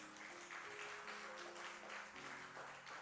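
Applause from a church congregation during a combined worship service, welcoming a member forward; a steady, moderately faint wash of clapping fills the whole stretch, with a sustained tonal hum underneath.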